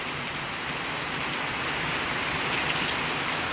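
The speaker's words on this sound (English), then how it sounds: "And man, here it is pouring down rain." Heavy rain pours onto an old tin roof at a Philippines beach house build, making a dense, even hiss that never lets up and has no voices over it.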